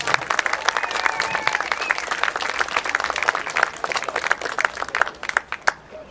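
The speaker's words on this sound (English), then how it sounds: "let's give Stratford Academy one more round of applause" A crowd at a halftime band competition applauds Stratford Academy with a lively round of clapping, individual claps crackling close by over a broad wash of applause that swells and then thins out toward the end.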